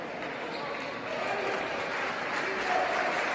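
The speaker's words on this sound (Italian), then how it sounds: "Applausi per Sousa" An arena crowd at an Agrigento–Legnano basketball game applauds a player substitution with dense, sustained clapping that swells slightly toward the end, and a commentator's voice runs over it.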